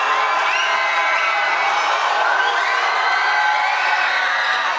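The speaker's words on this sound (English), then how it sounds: "Panther crowd, awesome as always." A Panther crowd at a basketball game cheers steadily, a dense wash of shouting and whooping voices that holds at an even, loud level throughout.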